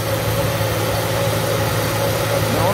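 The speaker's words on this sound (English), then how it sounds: "fan is running now" A steady whirring drone runs continuously from the radiator cooling fan of a 1997 Mustang 3.8 V6, heard close with an even engine hum underneath and no talking.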